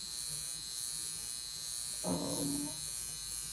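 A high-frequency skincare wand emits a thin, steady electric buzz at close range, holding an even tone throughout, with a brief low crackling burst near the middle.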